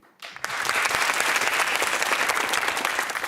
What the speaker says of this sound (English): Nice to see you applauding each other.